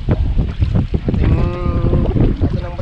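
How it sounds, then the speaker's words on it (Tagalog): Strong wind buffets a small fishing boat at sea during net fishing, a loud roaring gust with rumbling and splashing, and a brief tonal whine in the middle. "ang lakas ng hangin"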